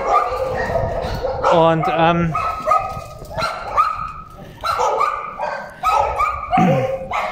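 A dog barks and yips in short bursts while straining on its leash outdoors near a Suzuki Jimny, mixed in with ongoing conversation from people nearby.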